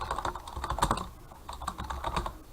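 Typing on a computer keyboard, a rapid, close run of clicking keystrokes that continues steadily, with no talk.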